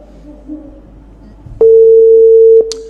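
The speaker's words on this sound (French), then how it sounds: "ça sonne toujours" A telephone call rings out unanswered, a faint line hiss and murmur giving way to one loud, steady electronic tone lasting about a second before it cuts off with a brief click.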